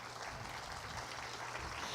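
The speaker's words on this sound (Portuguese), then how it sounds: "Uma salva de palmas para Akil" Steady applause from a church congregation for Akil, continuous and fairly distant throughout the brief stretch.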